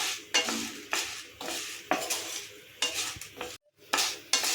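Dal and dried red chillies dry-roasting in a pan for a drumstick-leaf chutney, stirred in quick scraping bursts with light sizzling between strokes, close and fairly loud.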